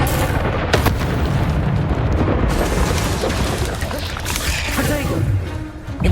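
The Incendio fire spell cast in the game Hogwarts Legacy, a loud, close, roaring burst of flame with booming impacts that swells and fades over several seconds amid other battle sounds.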